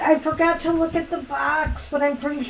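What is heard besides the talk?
No everyday noise stands out behind the speech.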